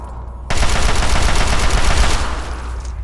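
Automatic gunfire in the Fallout 3 video game, set against Enclave soldiers, breaks out abruptly after a brief lull as a loud, rapid burst of shots that holds steady for about two seconds before tapering off.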